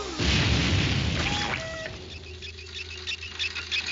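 An explosion in a Sonic video game starts as a loud, low boom. Crackling debris follows, with a couple of brief electronic tones as the blast fades.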